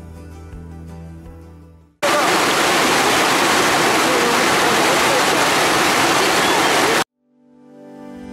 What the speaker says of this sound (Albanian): Nuk ka gjë më relaksuese se sa të dëgjosh zhurmën e rrjedhës së ujit në Theth